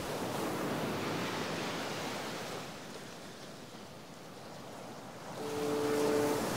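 Ocean surf rolling in at Fistral Beach during a surfing contest, a steady broadband wash of breaking waves that swells louder toward the end, with some wind noise and no voices.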